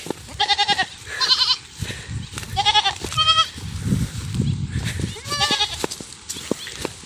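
Several Anglo-Nubian and Boer goats bleat close by on a farm in short, wavering cries, some overlapping, separated by brief pauses and low background rustling.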